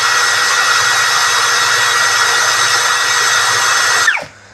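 A Kyoal cordless drill spins at its high second speed of about 1800 RPM, giving a loud, steady, close motor whine. It holds constant, then is released and winds down quickly at the end.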